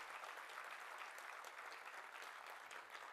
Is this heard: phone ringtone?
no